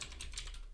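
A quick, close run of keystrokes on a Mac keyboard, several soft clicks packed into under a second with no voices.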